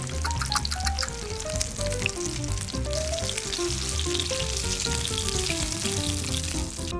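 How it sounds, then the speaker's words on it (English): Meat rolls of cheese-topped, tomato-sauced layers browning on all sides in a hot pan, giving a steady, loud sizzle and crackle that runs unbroken throughout, with no voices. "Fry the rolls on all sides."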